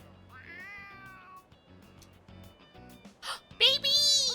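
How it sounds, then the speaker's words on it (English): A cat in Persona 3 Reload lets out a few rising meows, one near the start and a louder, higher one at the end, with quiet ambient game sounds in between. "Ooh, a kitty cat!"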